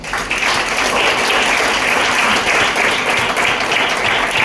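A hall full of attendees at a Vestige business meeting gives loud, sustained applause for Abhishek sir, a dense, even clapping that fills the room for several seconds.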